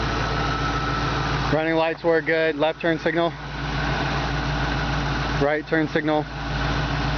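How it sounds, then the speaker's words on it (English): A 1966 Mustang convertible idles steadily with a low, even engine hum running through the whole stretch, while someone talks over it in two spoken passages. "This car engine just purrs like a kitten."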